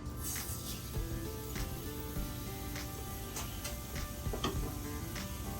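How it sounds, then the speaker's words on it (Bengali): Nigella seeds (black cumin) hit hot oil in a pan for a Bengali pumpkin-leaf dish, giving a steady close sizzle dotted with sharp little pops and ticks throughout, with no voices. "তেল গরম হয়ে গেছে, এখন এখানে দিচ্ছে 1 চামচ মতন কালো জিরা"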